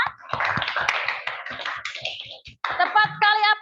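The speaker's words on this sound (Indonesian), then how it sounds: "Berikan tepuk tangan untuk Adik Farel ya" A classroom of pupils claps for a student named Farel after his answer, a busy patter of hand claps mixed with children's voices and chatter.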